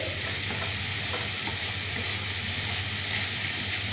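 Veg roll filling mixture frying in a pan and being stirred continuously, a dense, even sizzle with soft scraping underneath and no voices.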